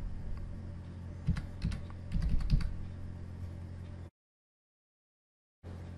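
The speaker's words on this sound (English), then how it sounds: "you can just now type from your computer." Typing on a computer keyboard, a quick run of close, crisp key clicks in irregular bursts for about four seconds, then a gap of silence before faint room tone returns.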